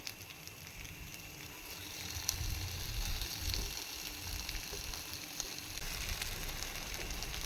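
Round-cut pieces fry in a pan with a quiet, even sizzle and scattered small crackles that swell briefly in the middle. No one speaks.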